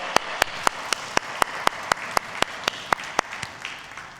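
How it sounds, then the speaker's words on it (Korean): A church congregation claps together during a Sunday worship service, a steady rhythmic beat of about four claps per second over a soft wash of broader applause, held evenly throughout. "우리 함께 영광의 박수 올려드리겠습니다."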